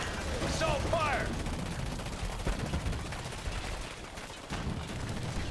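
Unit gunfire from GDI forces in the PC strategy game Command & Conquer 3 Tiberium Wars, a steady continuous rattle of weapons fire and battle noise mixed with in-game voice responses.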